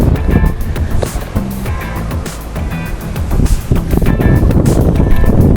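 Ocean surf breaking on the beach at Las Peñitas, a steady loud roar of waves and rushing water that swells slightly louder toward the end, with no voices.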